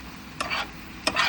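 Fried potatoes, peppers and onions are stirred in a skillet over low heat, producing two short, close scraping sweeps over a faint background sizzle.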